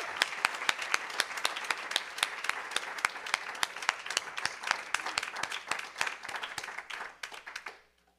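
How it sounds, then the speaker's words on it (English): Audience applause following a faculty reading presentation, steady dense clapping from a seated crowd for about seven seconds before fading out at the end. "We need to give Ronaldo Wilson some more applause."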